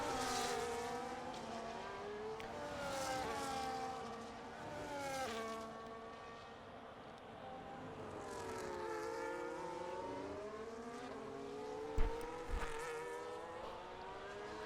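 Race car engines in a sim racing game at Zandvoort, several cars revving and shifting through gears in overlapping rising and falling whines, loud and continuous, with a brief knock near the end.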